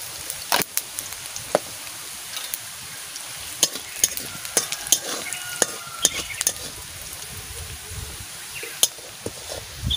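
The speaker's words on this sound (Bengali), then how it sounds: "আমি অল্প করে জিরে দিয়ে দিচ্ছি।" Cumin seeds fry in hot oil in a home kitchen while fish bora is being made, giving a soft continuous sizzle with scattered sharp clicks and ticks of stirring and utensil taps.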